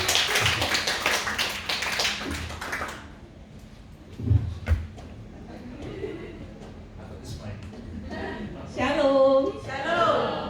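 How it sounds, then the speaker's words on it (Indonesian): A church congregation at a Passover service claps hands together, a dense burst of applause for the first few seconds that fades out, followed by scattered taps and a voice speaking. "Tepuk tangan buat Tuhan."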